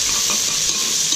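Aromatics sautéing in a pan for spaghetti sauce, a loud, steady close-up sizzle and frying hiss with faint stirring, no voices.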